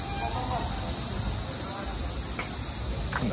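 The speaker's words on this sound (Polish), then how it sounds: "ale cykady szaleją." Cicadas in Zambia drone loudly and without pause, a shrill, even buzz filling the whole stretch over faint background sounds.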